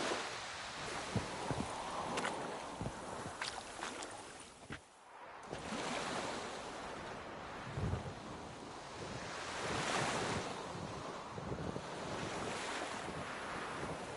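A wooden boat crosses a lake in Witcher 3, with steady lapping waves, rushing water and wind noise around it, continuous and fairly close, with no talking.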